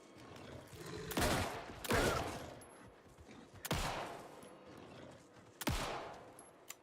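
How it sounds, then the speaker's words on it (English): Several separate bursts of gunfire in a video game, sharp loud blasts each trailing off, spaced a second or two apart with quieter gaps between them. "Alright, stop shooting like a fucking spaz."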